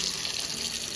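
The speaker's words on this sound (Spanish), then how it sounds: "Ahora solo le voy a echar agua a mi licuadora, al vaso" Water running steadily from a tap into a blender jar, a close, continuous splashing rush with no pauses.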